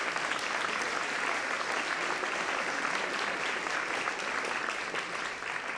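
An audience at a truffle gastronomy conference during Montréal en Lumière 2024 claps loudly and steadily for the team, a dense, even roar of applause lasting the whole stretch without speech.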